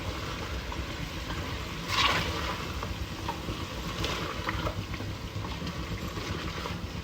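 Spices and salt are stirred into a sizzling white karahi, a steady frying hiss under repeated scraping strokes of a spoon against the pan, with a brief louder burst early on and no speech.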